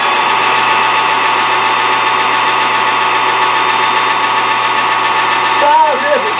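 A metal lathe runs steadily while taking a light spring cut on a part for a grinder stand, giving a continuous close machine hum and whine with a brief shift in tone near the end.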